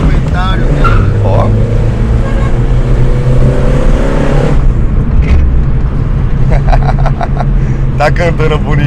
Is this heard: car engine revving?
yes